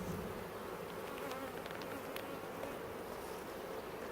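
Honey bees buzz steadily around an opened hive during a spring inspection, a dense continuous hum with a few individual bees droning closer past the microphone, no talking.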